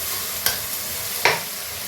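Ingredients dropped into hot oil in a pan set off a loud, steady sizzle, with two short sharp stirring scrapes cutting through the constant hiss.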